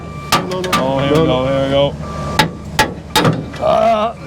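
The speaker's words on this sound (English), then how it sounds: "Can't beat the old hammer, mate" A hammer strikes metal brackets in a workshop with sharp, loud, separate taps spread across the clip. Someone talks between the blows and a ringing hum runs underneath.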